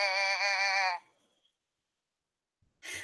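A person imitates a goat with a loud, wavering bleat that lasts about a second, then falls silent, and a second bleating voice starts abruptly near the end.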